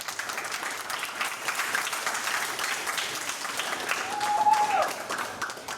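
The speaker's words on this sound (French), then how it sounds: "un maximum d'applaudissements pour monsieur Jordan Verretou" Applause from a school audience welcoming footballer Jordan Veretout, a fairly faint but continuous patter of many hands clapping that swells slightly near the end.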